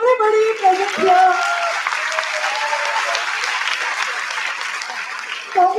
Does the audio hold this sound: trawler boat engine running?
no